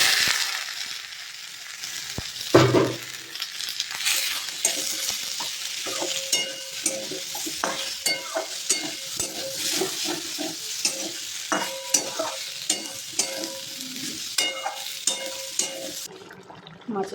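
A fish curry cooks in a pan, bubbling and sizzling while a utensil stirs and scrapes through it in repeated close knocks and clinks over a steady frying hiss; no talk.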